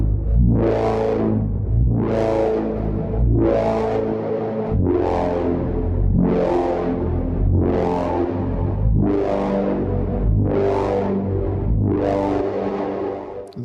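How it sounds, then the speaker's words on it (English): A Baby Audio BA-1 synthesizer, modelled on the Yamaha CS-01, plays a slow series of sustained notes, each swelling and decaying, with a lush, wavering chorus and long reverb tails blending them together. "Big difference with chorus on, and let's bump it up with more reverb as well."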